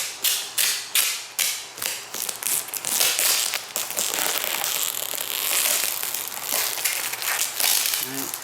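Vinyl wrap tears and crackles as it is peeled off the roof of a 2015-2016 Subaru WRX, beginning with a run of sharp rhythmic rips and then settling into a continuous crinkling pull, close to the microphone.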